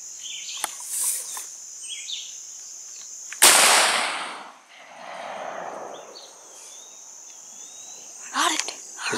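A single loud, sharp gunshot fired at a squirrel during a woodland squirrel hunt, cracking out with a long rolling echo through the trees, with birds and insects faintly around it and no talking.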